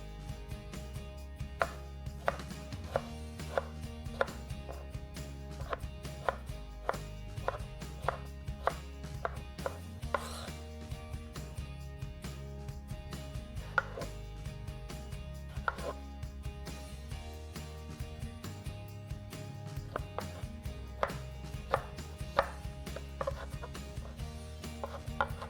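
A knife chops tomatoes on a board in quick, fairly regular knocks that run steadily with short pauses, close and crisp over a faint background hum.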